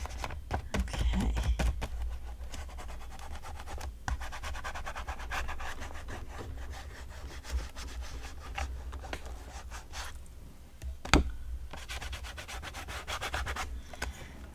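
Distress Crayon rubbed onto die-cut craft paper foliage makes a steady, close, dry scratchy rubbing that runs continuously with small rhythmic strokes, with one brief louder knock near the end and no voices.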